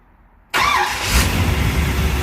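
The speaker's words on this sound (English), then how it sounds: "Just turned the key and she just cranked right over." A 1972 Chevrolet Corvette, warmed up, fires on the key after half a second of near silence, catching at once and settling into a loud, steady close-up rumble with a brief rev.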